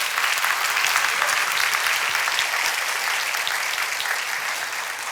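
Church congregation applauding steadily during a Sunday anniversary sermon, a dense, loud wash of clapping that holds evenly throughout with no talk over it.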